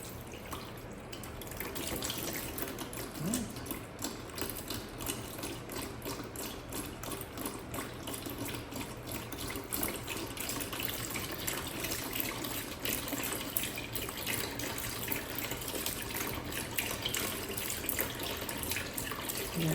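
Hot engine oil draining from a Ferrari F430 into a pan, a steady, continuous splashing pour like a running tap, even and moderately faint throughout, no talking.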